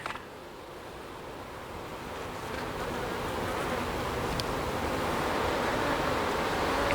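A dense, steady hum of many honeybees around hive frames full of capped honey, growing slightly louder over several seconds, with a soft rustle at the start.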